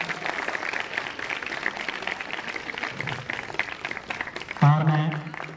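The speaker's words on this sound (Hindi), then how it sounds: "ताली बजे।" Audience applause at a district sports officer's welcome ceremony during a youth athlete scheme event, steady clapping over several seconds, joined near the end by a loud amplified voice.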